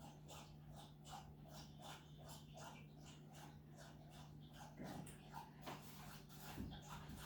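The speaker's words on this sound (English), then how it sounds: "that's my dog drinking water." A dog laps water in a steady rhythm of quick wet slurps, close by, with a constant low hum underneath.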